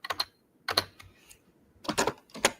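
Computer keyboard keys pressed in four quick clusters of clacks, close and crisp, while pasting an image reference into Midjourney; no talking over the taps.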